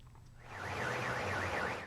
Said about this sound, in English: A cacophony of car alarms and flashing lights.